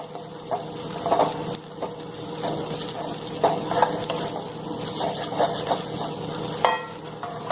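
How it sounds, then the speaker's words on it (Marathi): Ingredients for a green chickpea curry sauté in a pan, giving a steady sizzle under repeated scraping and knocking of a spatula, close by. "छान परतून घ्यायचं"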